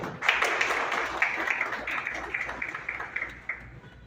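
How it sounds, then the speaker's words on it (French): Steady applause from the audience at an investiture ceremony for Haiti's youth government, crisp overlapping claps from a moderate crowd, sustained and even throughout, tapering slightly near the end. "Sous vos applaudissements."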